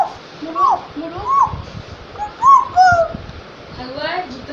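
A small child imitates a chicken with several short, hooting clucks in a loose rhythm, close and fairly loud.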